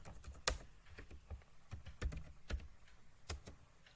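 Keys clatter on a computer keyboard as English text is typed into a document header, with irregular bursts of close, crisp clicks and a few sharper strikes standing out.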